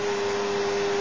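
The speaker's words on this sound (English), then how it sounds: "turn on his vacuum cleaning." A vacuum cleaner runs with a steady, loud whine and a constant hum, close and unbroken throughout the brief moment.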